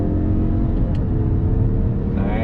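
A 2021 Mazda 3 Turbo engine roars loudly and continuously under throttle from second gear, its deep rumbling note rising in pitch as it accelerates.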